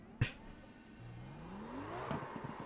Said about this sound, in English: We're doing burnouts just for finishing.